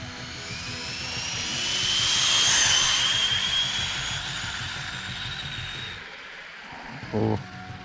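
A stretched Arrma Typhon RC car on a test run after a rebuild, its high-pitched electric whine rising and falling steadily as it drives away and back, with a brief thump near the end.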